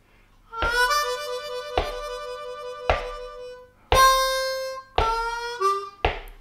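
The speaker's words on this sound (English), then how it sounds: "So your first warble lick is going to sound like this." Harmonica warble lick opening with a 3-4 draw warble, several bright sustained reedy notes with fast wavering trills, each separated by short breaths, close and clear with no talking.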